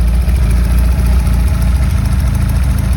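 A Ford Pinto engine, just started after having been seized, idles steadily with a low, even rumble and a faint rhythmic knock throughout, loud and close with no voices.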